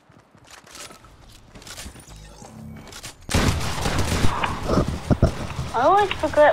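Combat shotgun blasts in Fortnite battle royale gameplay, a loud burst of shots after a quieter stretch of game sounds and music, with chirpy effects near the end.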